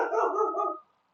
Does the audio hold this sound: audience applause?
no